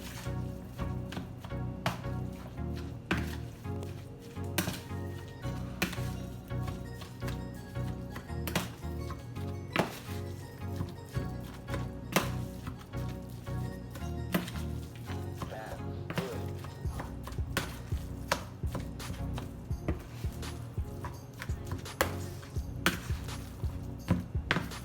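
Seasoned hamburger meat is mixed by hand with McCormick steak seasoning, producing a steady stream of close, wet slapping and squishing sounds throughout, with no talk.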